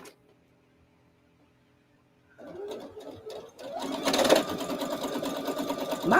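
A sewing machine winding its bobbin whirs into motion after a quiet start, its rapid mechanical rattle growing louder and running steadily to the end.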